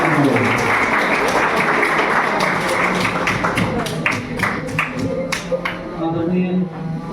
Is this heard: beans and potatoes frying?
no